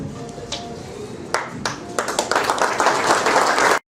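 Spectators clap and cheer at a symbolic ribbon-cutting ceremony, the applause starting in scattered claps and swelling into dense, loud, sustained clapping that stops abruptly.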